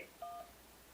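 A single short telephone keypad tone, pressing 2 to leave a voicemail, heard close and clear in an otherwise quiet line.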